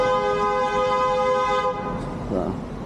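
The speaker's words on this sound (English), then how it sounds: "People honking here." A long, steady car horn blares on a busy city street, held for over a second and a half before cutting off, leaving traffic noise and a faint, brief second honk.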